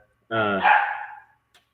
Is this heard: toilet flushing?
no